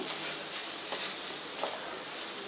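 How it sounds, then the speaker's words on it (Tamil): Grated coconut and beetroot sauté in a hot pan, a steady close sizzle and fry with faint stirring scrapes throughout. "தேங்காய் போட்டு ஒரு ஃபைவ் மினிட்ஸ் லைட்டாக வதக்குங்க"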